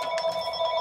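A telephone rings steadily with an electronic bell tone, loud and alone in the room, with no voices over it.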